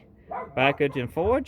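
A dog barks at a cat several times in quick succession, close and loud, while someone talks over it during a flywheel, clutch and pressure plate install.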